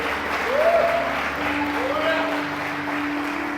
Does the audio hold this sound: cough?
no